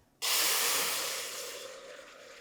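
Sauce hits a preheated pan for a sesame shrimp and rice dish, bursting into a loud, steady sizzle that starts abruptly and slowly fades while it keeps hissing.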